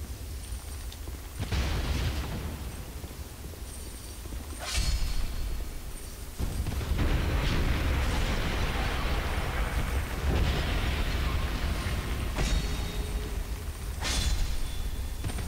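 Explosions in Dark Souls II: Scholar of the First Sin: several heavy booming blasts at irregular intervals over a dense, rumbling in-game backdrop.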